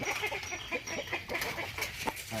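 Young roosters cluck and murmur softly nearby, a steady run of short calls over a quiet farmyard background with no talking.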